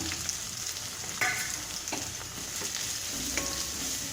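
Onions fry in a pan as dry spice powder goes in for a pigeon pea curry, giving a steady close sizzle broken by a few scraping stirs.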